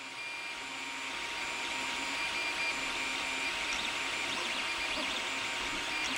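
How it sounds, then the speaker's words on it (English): Steady mechanical whirring and high-pitched stepper-motor whine from a Creality CR-10S 3D printer, continuous and fairly close, with faint shifting tones and no talking. "A lot of people wonder what kind of sound a 3D printer makes"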